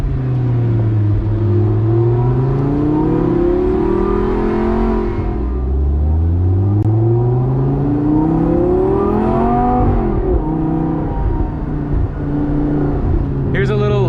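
A supercharged Lamborghini Gallardo Spyder engine rises and falls in pitch through repeated downshifts and rev blips, loud and close from inside the cabin, with a person talking over it.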